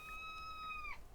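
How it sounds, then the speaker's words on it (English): A pet cat gives a single clear, fairly quiet meow that holds steady and then drops in pitch at the end. "that's my cat"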